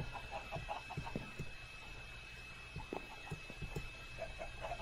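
Several chickens cluck in Minecraft, kept below decks on a built boat, a scattered run of short, moderately faint clucks over a steady, quiet background hum.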